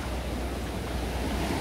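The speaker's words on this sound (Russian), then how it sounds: "И волны сильно фигарят." Sea waves surging on a shore, a continuous loud wash of surf mixed with wind rumbling on the microphone, close and steady with no voices.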